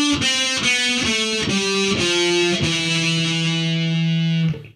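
Heavy distorted electric guitar playing the E Phrygian scale, a run of about six picked notes stepping up in even rhythm, the last held and ringing before cutting off, loud and alone.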